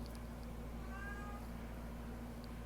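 A cat gives a single short, faint meow indoors over a steady low electrical hum, with no one talking.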